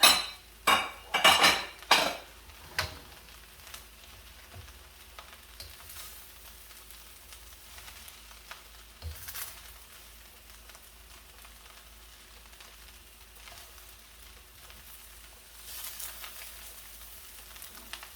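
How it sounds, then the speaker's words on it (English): Sausage and eggs go into a hot pan for sausage fried rice: a few sharp clatters of utensil on metal at the start, then a soft, steady sizzle that continues faintly throughout. "I want to throw in my sausage and my eggs at this point"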